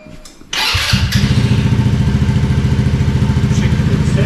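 A 2023 Motolux Rossi RS 125 motorcycle fitted with a replica performance exhaust starts with a cranking thump and settles into a loud, close, rhythmic idle that throbs steadily without interruption.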